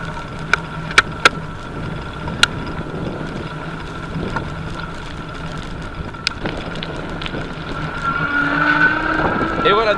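A vehicle engine accelerating from a start, recorded on an AKASO Brave 7 action camera in a thawing, snowy setting; a steady drone with wind noise and scattered clicks, a rising tone building toward the end.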